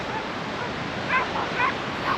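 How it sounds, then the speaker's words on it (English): A street dog in Morocco barks three times in short yaps over steady surf-like outdoor noise, moderately near and without clear talk. "That's the first street dog in the whole of Morocco that's actually gone for our dog."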